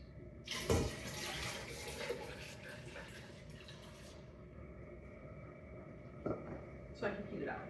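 Whey is poured back into a pot during homemade mozzarella making from whole milk, a soft splashing trickle running for a few seconds amid faint kitchen clatter, with a couple of light knocks near the end.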